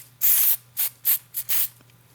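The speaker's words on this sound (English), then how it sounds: "you can use this, it's called Petal Proofer from Design Master, and you just spray it in the hip of the flower" Design Master Petal Proofer sprayed from an aerosol can onto flower heads in an arrangement, five short hissing bursts in quick succession, close and crisp over a faint background hum.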